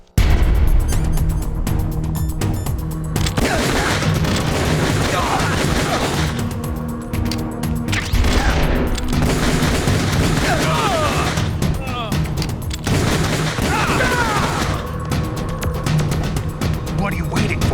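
Sustained gunfire and crashing impacts from Metal Gear Solid: The Twin Snakes, loud and dense throughout, mixed with game music and shouted voice lines.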